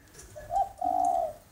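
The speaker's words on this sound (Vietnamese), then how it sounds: "Nó là con chim nuôi bộ từ nhỏ mà." A tame pet spotted dove gives a soft two-part coo, a short note followed by a longer, fuller one, close and clear against a quiet background.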